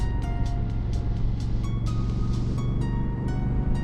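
A Honda CRF1000 Africa Twin motorcycle engine runs steadily with a deep, continuous low rumble, its tone shifting slightly as gears change smoothly while riding.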